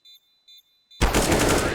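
Three short electronic beeps in an online shooter game, then a sudden loud eruption of gunfire that keeps going to the end.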